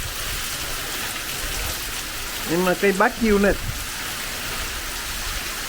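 Steady rain hisses throughout, with a short burst of speech in the middle over the constant downpour.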